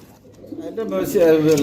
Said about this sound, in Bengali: সিরাজি কবুতর সিরাজি সিরাজি